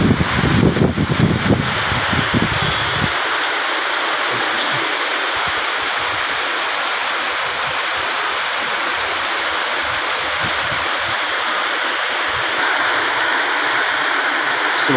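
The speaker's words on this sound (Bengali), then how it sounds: "মুষলধারে বৃষ্টি।" Heavy downpour in Dhaka, a loud steady broadband wash of rain that holds for the whole stretch, with a brief burst of low rumbling noise at the start before settling into an even roar.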